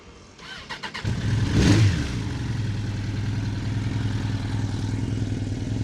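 A Suzuki GSX-R750 motorcycle engine cranks with a few quick starter bursts, catches with a sharp rev, then settles into a steady, close idle.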